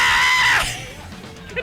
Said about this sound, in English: Can you give me your best metal scream?